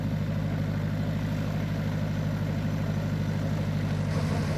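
A Wintervogel gyrocopter's engine idles steadily on the runway before takeoff, a loud, continuous low drone with a throbbing rumble and no voices over it.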